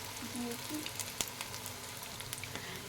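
Aloo tikki potato patties fry gently over a low flame, a quiet steady sizzle with faint scattered pops and a soft tap or two.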